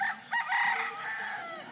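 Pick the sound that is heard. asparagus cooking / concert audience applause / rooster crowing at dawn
rooster crowing at dawn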